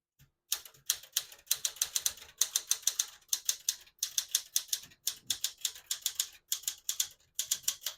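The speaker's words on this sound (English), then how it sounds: "Beautiful typing machine." Steady clacking of a 1975 Smith-Corona Galaxie 12 manual portable typewriter, rapid crisp keystrokes in bursts with brief pauses between runs, fairly quiet and close.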